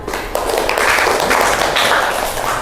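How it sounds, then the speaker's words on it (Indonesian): A classroom of students applauds a classmate named Bianca, a dense, steady wash of many hands clapping at close range that runs without pause and carries no speech. "Tepuk tangan untuk Bianca."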